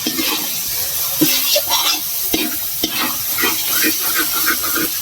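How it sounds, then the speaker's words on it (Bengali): Spice masala fried and stirred in a pan for a vegetable dish, a continuous close sizzle broken by regular scraping strokes of a spoon against the pan, with no one speaking. "ভালো করে মশলাটা কষিয়ে নেব।"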